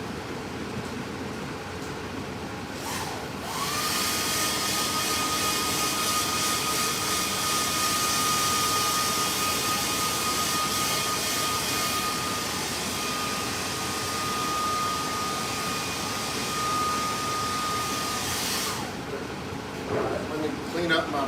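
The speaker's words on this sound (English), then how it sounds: "now I'm going to hit my hair dryer real quick" A hair dryer blows steadily on a freshly painted RC car body, a continuous whining hiss with a thin high tone that starts abruptly, runs for about fifteen seconds and then cuts off.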